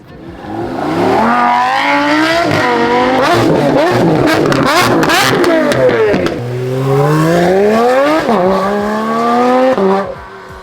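Lamborghini supercars, including a Revuelto, SVJ, STO, Centenario, Diablo and Performante, revving hard at close range, loud engine notes sweeping up and down in repeated climbing surges and overlapping roars.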